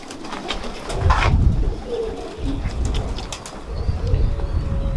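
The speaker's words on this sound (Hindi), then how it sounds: "ये मैं अब इनको चीने कबूतर दिखाने लगा हूँ।" Cheena pigeons, an old domestic breed, coo softly and repeatedly, alongside a brief flutter of wings and low background rustle, with no one speaking.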